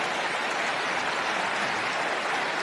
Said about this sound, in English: No need to applaud.